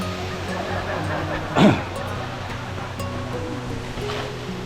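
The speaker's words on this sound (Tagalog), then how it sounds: "Napakasimpleng falls. Maliit na falls." Small waterfall with very clear water in the Malico mountains, Philippines, giving a steady rushing wash throughout, with a brief louder splash near the middle.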